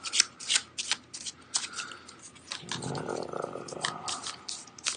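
A level 1 treasure card deck being shuffled by hand in a tabletop campaign game, giving repeated crisp riffling flutters close up, with a softer sustained rustle partway through and no talk.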